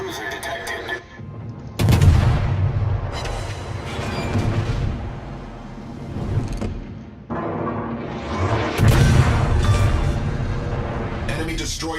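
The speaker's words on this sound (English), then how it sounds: "Enemy destroyer blown up." Enemy destroyer exploding in World of Warships naval combat, heavy booming blasts and rolling gunfire in several loud bursts, with deep rumbling tails between salvos.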